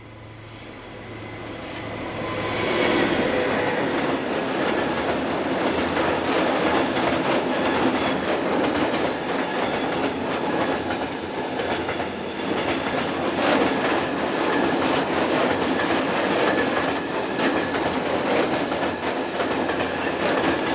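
Freight train hauled by diesel locomotive 75120 on a European line, rolling past close by with steady rumble and rhythmic wheel clatter over the rails, occasional wheel squeal, sustained for about twenty seconds.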